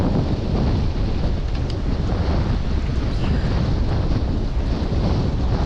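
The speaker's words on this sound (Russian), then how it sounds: "Ну еще и ветер, да." Strong wind buffets the microphone in a constant loud roar beside a shallow dam, with a rushing, water-like wash underneath and no voices.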